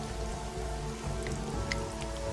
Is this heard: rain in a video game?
yes